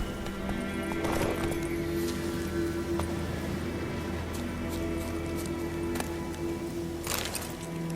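Roach the horse gallops in The Witcher 3, hooves drumming loud and continuous beneath a steady game soundscape with a couple of brief snorts or whinnies, no speech.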